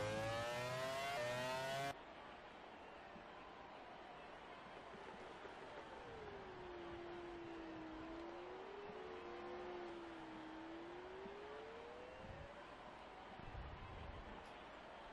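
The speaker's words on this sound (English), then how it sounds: "As the cars come through." Race cars on a Belgian Grand Prix circuit sweep past in overlapping engine whines that rise and fall, heard at moderate distance over a steady broadband roar, with a brief louder burst at the start.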